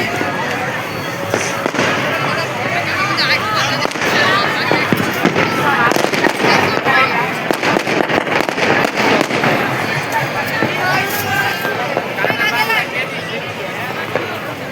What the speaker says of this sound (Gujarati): અને આમ જો ફટાકડા ફૂટે.